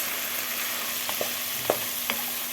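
Rice being stirred in a frying pan with broth, a few soft scraping strokes over a steady low sizzle, close and fairly quiet.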